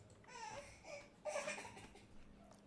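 A baby cries in short wavering bursts, somewhat muffled and in the background, with the loudest wail in the middle of the stretch.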